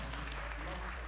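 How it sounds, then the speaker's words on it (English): Brief burst of audience applause for a speaker at a men's mental health and wellness community gathering, dense steady clapping heard from within the room. "So let's give a big round of applause for Spencer."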